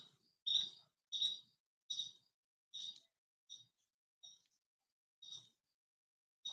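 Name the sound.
bird chirping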